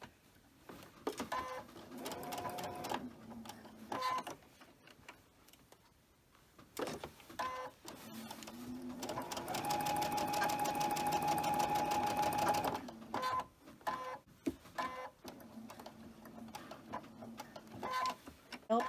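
A sewing machine stitches a quilt block in several short bursts of rapid, whirring needle strokes, with one longer sustained run in the middle, heard up close between pauses of quieter handling.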